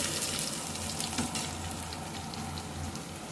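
Chicken curry with cumin fries in a pan, giving a steady, dense sizzle that holds at an even level throughout with no voices.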